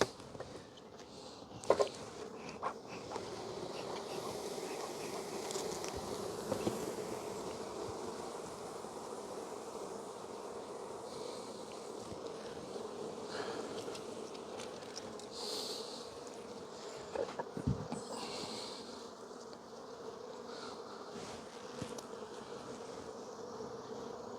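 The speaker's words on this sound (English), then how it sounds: "Outside frame's got a lot of bees on it for some reason." Bees drone steadily around a beehive frame, a continuous close buzzing hum with occasional faint bumps and handling noises over the top.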